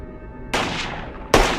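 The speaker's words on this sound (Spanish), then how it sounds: "Entonces sonó un disparo." Two sharp gunshots crack out about a second apart, each with a quick echoing decay, over a quiet low background.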